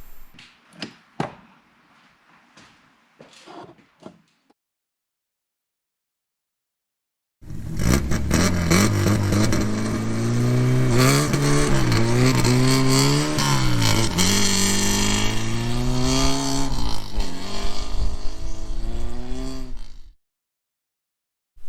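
A rare sports car revs hard from about 4,000 RPM and spins its tires, a loud, continuous engine roar with rising and falling pitch through gear changes for around twelve seconds, preceded by faint scattered rattles and followed by an abrupt cutoff.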